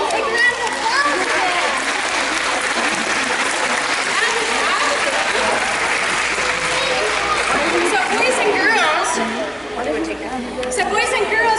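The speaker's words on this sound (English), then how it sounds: "Take a round of applause." Children and adults cheer and clap after a science demonstration, with lively chatter and excited voices mixing into the dense, continuous applause.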